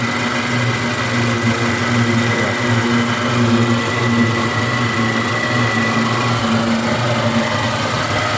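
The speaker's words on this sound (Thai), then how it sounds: "เครื่องนิ่มๆนะครับเครื่องนิ่ม" A used 2013 Mitsubishi Triton single-cab pickup with a petrol engine idles smoothly, giving a loud, steady, close-up drone with an even low hum and no change throughout.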